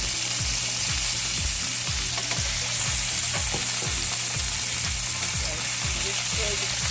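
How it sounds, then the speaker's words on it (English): Tomato paste stirred into sausage and peppers frying in a pan, a steady loud sizzle with a regular rhythmic scraping of the spoon, about two strokes per second, throughout. "Now I'm gonna add tomato paste."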